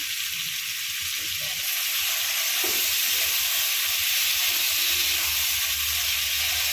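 Vegetables with lau greens fry in a pan with mustard paste and ginger paste, a loud continuous sizzling hiss that grows steadier and denser after the first couple of seconds. No one talks.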